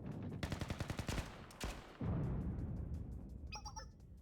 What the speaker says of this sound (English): the sound of gunfire explosions means the fighting has broken out